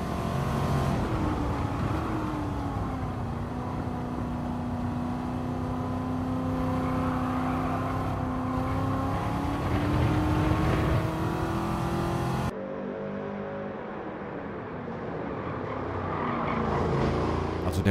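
De Tomaso Pantera engine in Gran Turismo 7 on PS5, heard from the cockpit: a loud, steady engine drone that rises and falls through gears over a warm-up lap, with a sharp shift partway through.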